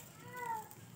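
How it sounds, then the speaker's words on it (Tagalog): Faint, short meow from a cat somewhere inside a home, one thin tonal cry over a quiet background hum. "May pusa kasing naingaw dito"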